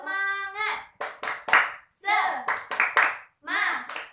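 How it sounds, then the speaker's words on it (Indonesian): Children in a classroom do a rhythmic group clap led by a teacher, with short bursts of sharp clapping between loud chanted voices. "Nah, kita akan melakukan tepuk semangat."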